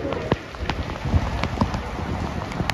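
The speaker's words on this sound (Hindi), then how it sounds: "हाँ बारिश मजा आ रहा है भाई, बहुत गर्मी बहुत हो रही थी।" Rain falls steadily on a street outside a shop during hot weather, a close, even patter broken by a few sharper drops and splashes, with no talking.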